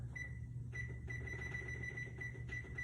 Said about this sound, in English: I will set my timer